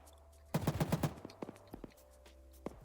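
DShK heavy machine gun strafing in Arma 3, a fast loud burst of about eight rounds followed by a few scattered single shots fading out.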